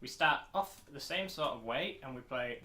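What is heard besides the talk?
No distinct noise like a dog, phone or traffic.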